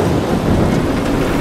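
A steady roar of storm noise in Transformers: Fall of Cybertron, with rumbling wind and rain-like wash filling the whole moment at constant loudness, no distinct thunderclap standing out.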